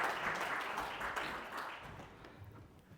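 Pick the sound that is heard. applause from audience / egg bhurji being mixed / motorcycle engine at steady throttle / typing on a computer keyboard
applause from audience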